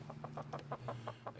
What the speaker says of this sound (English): as you can see, all of my chickens here.